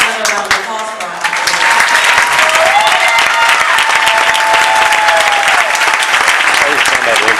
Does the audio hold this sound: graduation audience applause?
yes